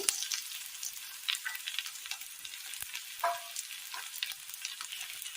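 Crushed garlic sizzles in hot oil in a frying pan, a soft continuous hiss sprinkled with small crackles and pops, fairly quiet and alone.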